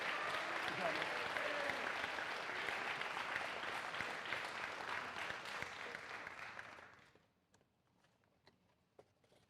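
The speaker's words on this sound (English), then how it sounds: "let's give a huge round of applause for this year's recipient, Richard White Band Award, James Reddick." An audience at a high school spring band concert claps steadily for several seconds, then the applause fades out into a quiet hall with scattered small knocks.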